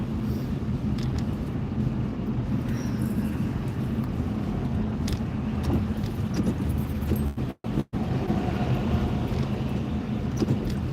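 Steady engine and road rumble fills the cabin of a car crawling through heavy traffic on a rainy day in Southern California, continuous and fairly loud with no talk, broken by two brief dropouts near the end.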